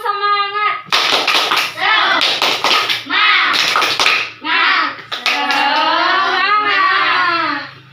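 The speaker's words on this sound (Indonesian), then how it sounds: "Tepuk semangat." A fourth-grade class performs a rhythmic spirit clap, bursts of group hand clapping in a patterned beat alternating with children chanting together and a teacher's voice leading.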